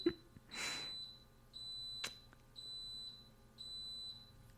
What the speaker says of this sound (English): Oh, there's the Instant Pot.